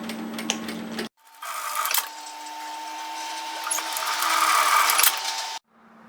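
A sewing machine runs a 1 cm seam down the short end of fused fabric pieces for a tailored vest. After a brief start, one continuous whirring stitch run lasts about four seconds, then stops.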